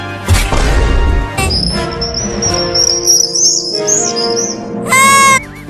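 Cartoon-style bird chirping in a comedy sketch, high twittering calls running for several seconds over busy background music and effects, ending with a loud fluttering trill.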